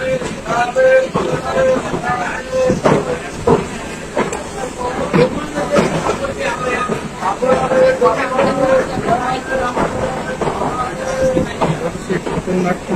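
Local train running from Coochbehar to Siliguri rumbles steadily across a bridge, a continuous near roar with a rhythmic clatter, while a voice speaks over the noise throughout.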